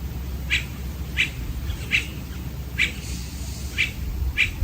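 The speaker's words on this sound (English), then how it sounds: "I love hearing the birds in the background" Outdoors during a yoga session, a bird calls repeatedly in the background, sounding six short, bright chirps at roughly regular intervals over a low steady hum, fairly faint and distant.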